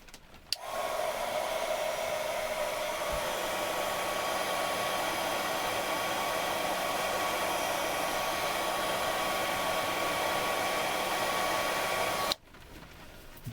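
A cordless hot air gun roars steadily on full turbo, a loud continuous whooshing hum that starts with a click and cuts off sharply near the end.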